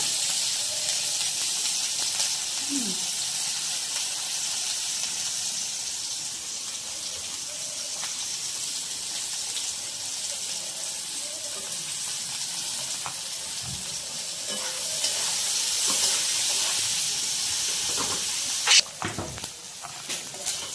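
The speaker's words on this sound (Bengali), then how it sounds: "এই কড়ায় তেল গরম হয়ে গেছে এই পেঁয়াজ দিয়ে" Onions frying in hot oil in a wok, a steady broad hiss and sizzle running throughout, with a brief clatter and louder crackling near the end.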